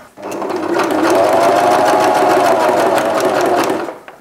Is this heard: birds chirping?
no